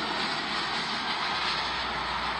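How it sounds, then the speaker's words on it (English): An Air India Boeing Dreamliner departs, heard as a continuous broadband jet roar with a hissing edge, steady and fairly distant, lasting only a couple of seconds. "Air India, Dreamliner going out now."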